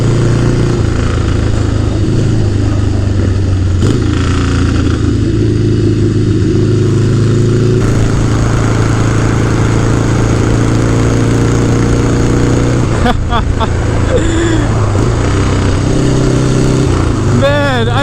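Harley-Davidson Low Rider ST with the 117 engine thrums loudly and steadily while riding, the V-twin note shifting with throttle and gear changes under wind noise, with a rider's voice briefly audible.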